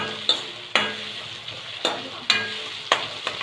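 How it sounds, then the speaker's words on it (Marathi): Onion frying in a pan over a high gas flame, a steady bright sizzle broken by regular scraping clinks of a spoon stirring against the pan, close and alone without speech. "कांदा पण आपल्याला याच्यात फ्राय करायचा."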